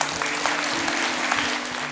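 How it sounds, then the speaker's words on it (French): Warm audience applause at a gathering honoring an elderly retiree who became a worldwide meme, a steady wash of clapping that fills the whole moment with no voices over it. "Les applaudissements sont chaleureux et les rires sincères."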